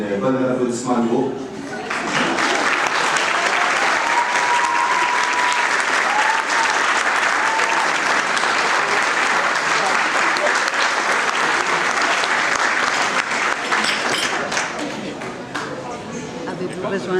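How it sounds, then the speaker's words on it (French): Audience applause at a gala, a full, sustained roar of many hands that swells quickly, holds for about twelve seconds, then tapers off, with a few voices audible at the start and end. "De s'avancer pour le bon applaudissement à nouveau."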